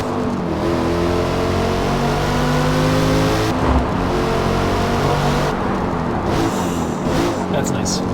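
A manual Cadillac CT5-V Blackwing's engine drones loud and steady, rising and falling in revs, while people talk over it.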